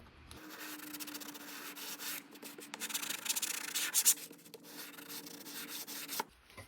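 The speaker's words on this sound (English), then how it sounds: "I'm going to try to use these sanding blocks to scuff up the areas" Steady back-and-forth sanding with a sanding block on a wooden box top, a dry rasping scuff that rises and falls in strokes, close and continuous for several seconds before stopping.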